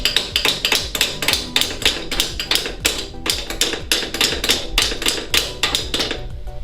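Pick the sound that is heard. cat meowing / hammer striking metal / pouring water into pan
hammer striking metal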